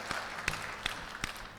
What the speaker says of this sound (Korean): 우리 찬양팀 수고했다고 박수 한번 하겠습니다